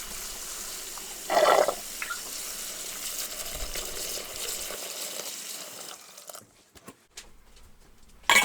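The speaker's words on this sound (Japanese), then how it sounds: "最後4回目洗っていきます" Morel mushrooms swirled and rinsed in a bowl of water for a fourth wash, a steady soft watery sloshing with a brief louder splash early on, fading to near silence before a sharp noise at the end.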